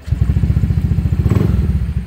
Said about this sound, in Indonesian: mesin bisa dinyalakan